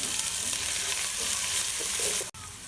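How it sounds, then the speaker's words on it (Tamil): Onions with ginger-garlic paste sauté in a pan with a continuous close sizzle and soft stirring. A brief sharp knock comes near the end, and no one talks. "இப்போ இதில் இஞ்சி பூண்டு பேஸ்ட் சேர்த்துக்கோங்க. அதையும் எல்லாத்தையும் நல்லா வதங்க விடுங்க."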